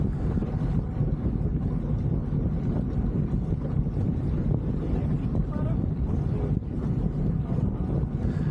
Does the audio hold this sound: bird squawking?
no